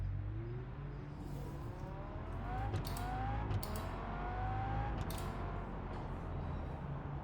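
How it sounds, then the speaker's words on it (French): Video game car engine hums at a steady drone, pitch sliding upward in repeated climbs as it drives, with faint clicks and creaks on top, fairly quiet. "écoute un peu ce bruit. Ce sent une voiture."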